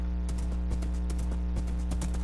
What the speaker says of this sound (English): I got no leads to tie up my horse